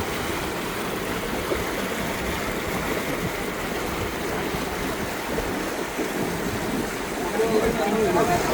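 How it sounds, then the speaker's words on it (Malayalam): Water gushes steadily from a motor pump draining a paddy field being prepared for sowing, a loud, close, continuous rushing wash that swells slightly near the end. "നിലം ഒരുക്കുന്ന വെള്ളം മോട്ടോർ ഉപയോഗിച്ച് പറ്റിക്കുകയാണ്"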